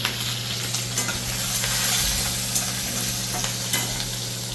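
Finely chopped green chillies fry in a little oil and sizzle softly and evenly nearby, with a few faint stirring clicks and a low steady hum underneath, and no one speaking.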